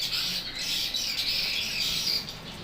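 Swiftlets squawk and chirp steadily inside a swiftlet house, a dense, continuous chorus of bird calls with a fan running nearby, fairly close and moderately loud, no voices.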